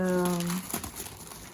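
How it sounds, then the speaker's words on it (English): Black plastic bag wrapping around a shipment of succulents being cut open, a close crinkling and rustling of plastic that starts after a brief tone and runs on steadily. "I'm just going to cut the wrappings, the black plastic bag"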